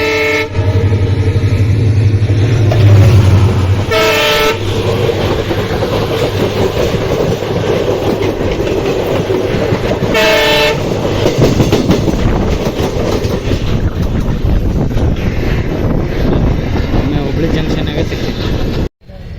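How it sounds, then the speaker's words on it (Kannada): The Hubli–Sindhanur Express passenger train passes close by at a station, with continuous rumbling and clatter of wheels and two loud horn blasts a few seconds apart, while someone talks over it. "ಹುಬ್ಳಿ ಇಂತ್ರ ಸಿಂಧನೂರ್ಗೆ ಹೋಗೋ ಗಾಡಿ ಬರಾಕತ್ತೈತಿ, ಕ್ರಾಸ್ ಮಾಡ್ತೈತಿ ನೋಡ್ರಿ."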